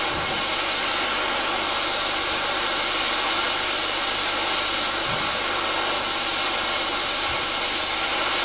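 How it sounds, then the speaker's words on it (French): Steady loud broadband hiss of escaping steam from a 231 K8 Pacific steam locomotive, continuous and close, with faint low rumbles underneath and no talk. "elle s'est éveillée, laissant apparaître de tous côtés le feu, la vapeur, la vie"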